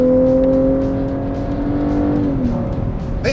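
A 2014 Cadillac CTS-V Sport with a V8 engine, its sound piped through the cabin speakers, revving and holding a steady, loud drone that shifts pitch and falls away near the end, with no talk over it.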